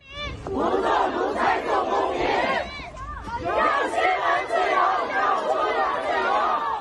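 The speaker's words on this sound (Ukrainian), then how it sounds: "А в Пекіні натовп людей зібрався, вимагаючи свободи." A large protest crowd in Beijing shouts and chants together in loud, rhythmic bursts, many voices blending into a continuous roar.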